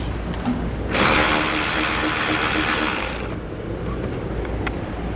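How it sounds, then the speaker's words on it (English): A ratchet with a 7mm socket backs out tail light bolts on a 2016 vehicle, giving a loud, steady whirring rattle of about two seconds set between quieter stretches with no talk. "We're going to take a 7mm socket to remove those."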